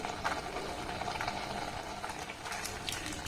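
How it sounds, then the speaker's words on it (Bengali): A sweet condensed milk mixture for sugar-free sandesh bubbles in a pan while being stirred, giving a faint, continuous simmering burble with light scraping. "আবারও মিশ্রণটাকে একটু ভালোভাবে নাড়াচাড়া করে ফুটিয়ে নেব।"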